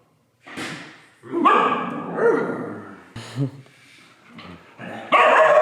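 A dog barks and yips in short bursts at close range, mixed with whimpers and a thud, while people talk nearby.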